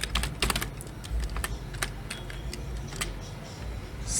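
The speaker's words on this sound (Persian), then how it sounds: "توی مرورگر میریم، متن ارور رو تایپ میکنیم" Someone types on a computer keyboard, entering an error message into a web browser on a Windows PC. Quick, close key clicks come in uneven bursts and pauses against a quiet background.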